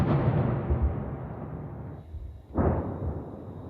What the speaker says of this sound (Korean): 우크라이나 수도 키이우에는 러시아의 폭탄 공격이 이어졌습니다